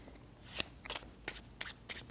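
A deck of playing cards is riffled in a false shuffle, heard as five short, crisp bursts of cards flicking and snapping, close and quiet, with no talking.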